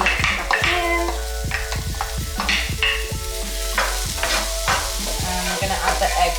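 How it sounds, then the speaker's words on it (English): Onions and garlic sizzle steadily in a hot frying pan while a utensil stirs and scrapes them at close range, giving regular knocks over the constant frying hiss. "So I'm now adding the onions and garlic back in."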